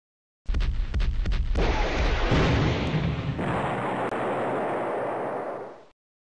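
Video game artillery fire opens with a quick series of sharp booming blasts, then rolls into a loud sustained explosive roar that tails off and cuts out.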